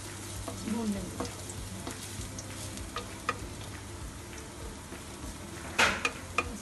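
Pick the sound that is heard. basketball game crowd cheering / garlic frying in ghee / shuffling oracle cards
garlic frying in ghee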